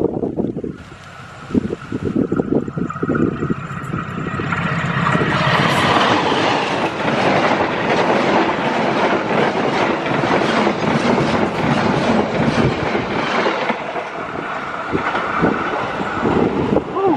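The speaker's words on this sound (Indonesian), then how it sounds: "Kertanegara sudah melintas stasiun Delanggu" A Kertanegara passenger train hauled by a CC203 locomotive passes Delanggu station in Indonesia, a loud rumbling roar with rhythmic clickety-clack of wheels on rail joints building and holding close by.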